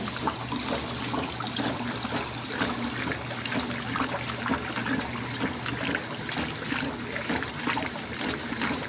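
Water from a 1957 solid-tub Speed Queen washer overflows in a continuous rushing, trickling splash, close and steady from start to finish with no talking.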